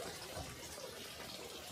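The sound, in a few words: running water from a public drinking fountain in Switzerland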